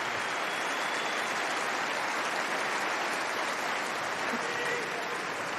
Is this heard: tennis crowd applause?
yes